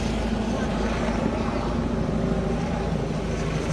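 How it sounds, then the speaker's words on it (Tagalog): A helicopter arrives overhead at a rural landing in Rizal, Nueva Ecija, its steady broadband rotor and engine roar filling the air continuously at close range while people talk over it. "Ayan na ang helicopter mga idol"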